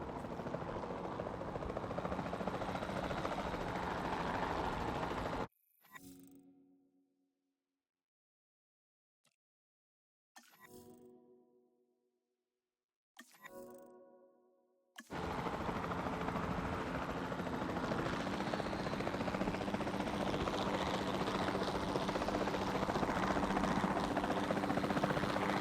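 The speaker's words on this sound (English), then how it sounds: "Then the sensible thing is to take a capture team helicopter." Capture team helicopter in Jurassic World Evolution 2, a loud steady rotor drone that fills the opening stretch, cuts out to near silence broken by brief bursts, then returns at full strength and holds to the end.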